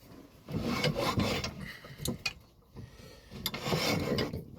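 A freshly sharpened bowl gouge cuts wood on a lathe in a small shed, giving repeated rough scraping bursts with short pauses between them, close and fairly loud, with no speech.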